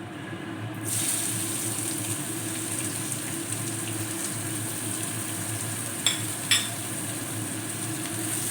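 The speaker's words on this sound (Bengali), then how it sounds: "এবারে গন্ধ বেরোতে শুরু করলে আমি এর মধ্যে দিয়ে দিলাম পেঁয়াজ কুচনো" Chopped onion dropped into hot oil with bay leaf for a katla fish curry, making a steady broadband sizzle that starts abruptly and continues evenly, with a couple of brief utensil clicks near the end and no talking.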